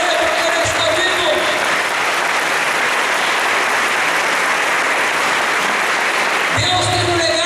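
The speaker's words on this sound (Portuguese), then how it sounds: "Aplauda para valer, porque ele está vivo." Audience applause at a Catholic formation gathering, sustained and loud dense clapping filling the room, with speech-like voices and shouts rising over it near the end.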